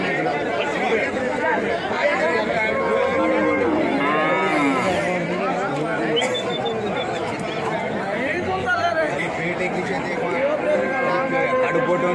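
Buffaloes and HF cows at a busy cattle market in Anantapur, with occasional moos and animal calls rising over constant crowd chatter and nearby voices talking.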